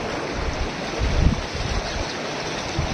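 Ganga river in flood, a dense continuous rush of flowing water, broad and steady with a brief swell partway through.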